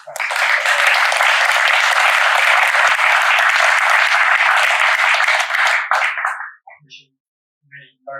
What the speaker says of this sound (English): Can we first of all just start by giving a big round of applause?